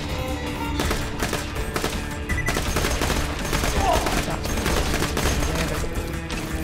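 Rapid automatic gunfire in the video game Borderlands, dense bursts of shots rattling continuously in the Hyperion Slaughterhouse arena, loud and close with no voices.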